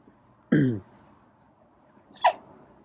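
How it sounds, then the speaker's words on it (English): A feral cat gives two short, harsh coughs about a second and a half apart, close and clear against a quiet room. "Uh-oh, another cough."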